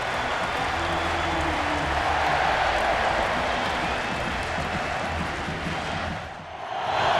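A large football stadium crowd roars during an NFL game between the Falcons and Chiefs in 2004, a broad, sustained rumble of cheering that dips briefly near the end, then swells again.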